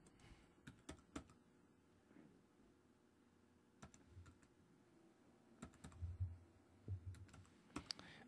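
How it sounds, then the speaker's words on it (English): Password typed on a computer keyboard: quiet, irregular key clicks in small bursts with pauses between, close up in a quiet room and with no talking. "type in our username"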